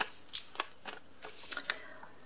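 Paper pieces peeled off a cleanable craft mat, giving a few short, soft crinkly tearing sounds spaced irregularly, close and quiet against a still background.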